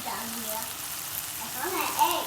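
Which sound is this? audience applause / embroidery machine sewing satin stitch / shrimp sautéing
shrimp sautéing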